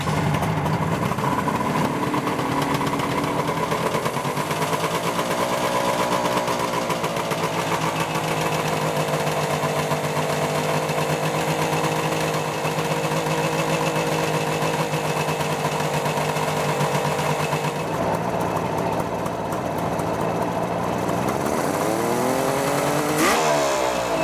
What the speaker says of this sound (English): Run the engine again and do a short throttle test.